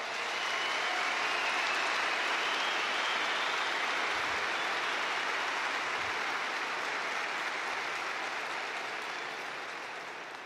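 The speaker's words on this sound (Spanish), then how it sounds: "Un aplauso para él, por favor." A conference audience at the Madrid Economic Forum applauds in a dense, sustained wash of clapping that holds loud for about ten seconds before tapering slightly at the end, with no talking over it.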